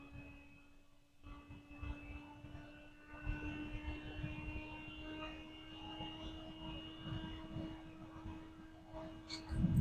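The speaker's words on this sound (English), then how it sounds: "the noise is kind of weird for this fan. It's got the higher noise with the wind, and then there's a lower noise." A WGMHEFUN 120mm USB fan with a speed-controller knob runs at about 2,000 RPM, giving a steady airy whoosh over a constant tonal hum. It is close and moderately loud, with a brief drop early on and a swell near the end.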